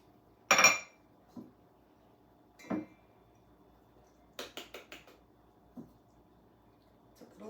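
Flour and freshly shredded cheese being mixed together in a bowl, heard as sparse, quiet clinks and scrapes of a utensil against the bowl with stretches of near silence between them.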